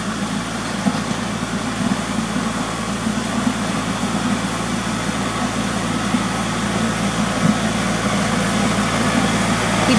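Tractor engine idling with a steady low drone while smoothing a woods driveway with a back blade, heard at a distance as a constant hum with no clear revving.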